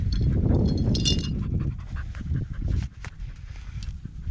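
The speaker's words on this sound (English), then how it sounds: "Got a noisy dog." A dog pants loudly and close by on a ranch during barbed-wire fence repair work, with rapid, heavy breaths that fill the whole stretch.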